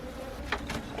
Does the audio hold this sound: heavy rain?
no